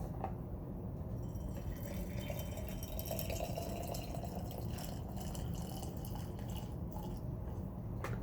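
Hot water poured into a craft jar for a calming jar, giving a steady, even trickle and slosh of liquid filling glass that runs the whole time at low level, with no talk over it.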